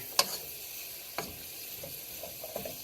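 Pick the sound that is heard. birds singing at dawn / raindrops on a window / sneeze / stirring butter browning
stirring butter browning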